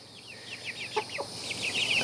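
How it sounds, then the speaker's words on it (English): Young chickens in a backyard coop with a nursery area give repeated high, thin chirps scattered throughout, a few louder peeps standing out, fairly close and busy with no talking. "Noisy, chirp all the time, jump around, fly around."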